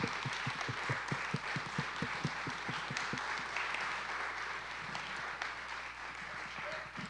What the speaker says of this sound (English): Let's give a round of applause for Matthew one time, guys.